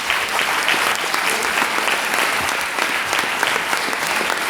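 A theatre audience at a Neapolitan comedy play applauds steadily, a dense and loud wash of many hands clapping without pause.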